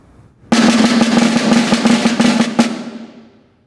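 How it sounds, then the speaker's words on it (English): Snare drum buzz roll played as single-hand sixteenth-note buzzes, a dense sustained rattle with evenly spaced pulses, loud and close, ending with an accented stroke and a short decay. "you're doing one buzz per 16th note, and that sounds like this"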